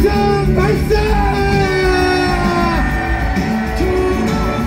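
A rally crowd cheers and shouts loudly and continuously, many voices merging into a sustained roar with rising yells, close and dense throughout.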